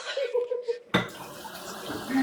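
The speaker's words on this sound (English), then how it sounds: "here pouring grease down the sink" Grease poured down a kitchen sink, starting with a short clatter and then a steady liquid stream splashing into the drain, close and moderately loud with faint background sounds.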